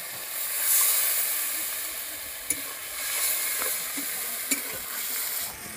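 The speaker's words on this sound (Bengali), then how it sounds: "আমি এখানে ডাবের জলই দিচ্ছি।" Coconut water poured into a frying pan with prawns, a loud hissing sizzle that swells and settles, with a couple of faint clicks of a utensil, steady and close with no voices.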